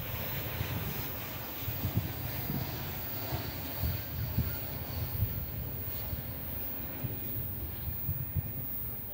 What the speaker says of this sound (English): That Spirit Airbus A340 is flight 972, came in from Phoenix, Arizona